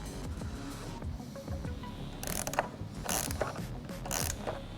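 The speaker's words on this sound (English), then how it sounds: "you can tighten them with a 1/2 inch wrench and a T45 Torx bit" A 1/2 inch wrench and a T45 Torx bit tighten the nuts and bolts on Bushwacker pocket-style fender flares for a 2015-2017 Ford F-150, giving close metallic ratcheting clicks in short bursts.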